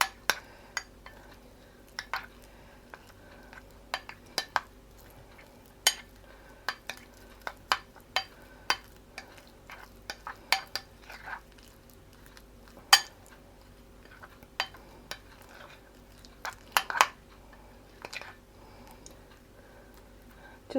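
A spoon clicks and taps against a bowl while garlic and frozen parsley filling for a vegetarian garlic Kiev are mixed together, giving irregular sharp ticks and scrapes over a quiet background.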